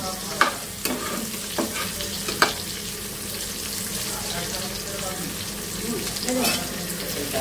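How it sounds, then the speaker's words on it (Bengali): Pointed gourd frying in a pan gives a steady, close sizzle throughout, broken by a few louder crackles and spatters, with occasional stirring noises and no one talking. "একটু পটল ভাজি করতেছি।"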